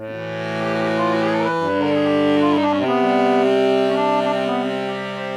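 Accordion sounding low and high notes together, sustained chords held close and loud, with the harmony shifting a few times over several seconds and no speech.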